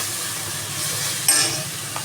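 Ginger garlic paste frying in a pan, a steady close hiss and sizzle with a brief clink of utensil on metal partway through, no talk.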